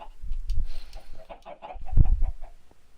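Chickens cluck in a Minecraft farm pen, several close, short clucks and squawks coming in uneven bursts.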